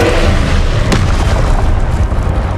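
A Confringo fire-blast spell explodes in the Hogwarts Legacy video game, a loud sharp boom that flows into a dense, sustained roar of combat noise.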